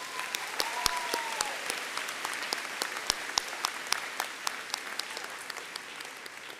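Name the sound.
applause for a row of graduates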